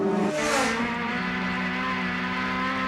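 Touring race cars at Lakeside in 1989 roar past on the downhill run, a loud sustained engine drone with a rising whoosh as one car passes close.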